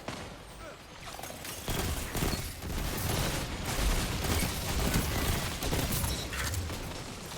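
Video game gunfire: rapid automatic bursts and a dense barrage of shots sound steadily and fairly loud throughout, with a faint voice now and then.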